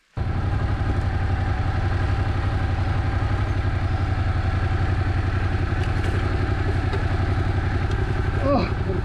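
Stuck motorcycle engine revving steadily and loudly on a rainy mountain trail, a continuous close drone with some clatter, running alone without speech over it.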